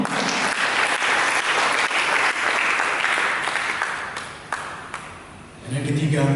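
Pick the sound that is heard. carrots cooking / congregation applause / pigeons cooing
congregation applause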